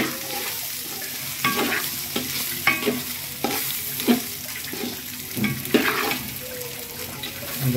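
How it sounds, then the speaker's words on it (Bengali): Rice frying in a pot for biryani and being stirred, a steady sizzle broken by repeated scraping strokes of the spoon against the pot, close and fairly loud with no talking. "চালটাকে ভালোভাবে ভেজে নাড়াতে হবে, নাড়াটা করতে হবে।"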